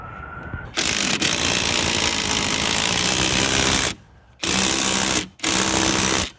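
A power driver whirs loudly up close, driving a screw into a Club Car golf cart bushing assembly, running in three long bursts with short pauses between them.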